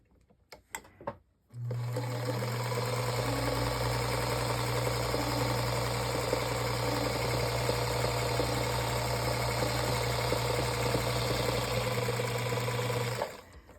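A home sewing machine stitches fabric for a journal cover in one long steady whirring run of about twelve seconds, close and even, with a faint tap or two before it starts.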